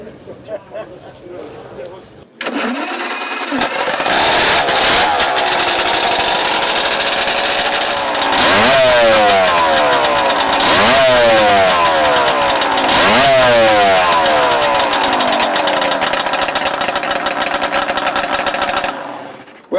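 A restored 1938 Triumph Speed Twin 5T motorcycle engine starts and runs loudly close by, with three strong revs rising and falling over a steady beat. Faint speech is heard under it.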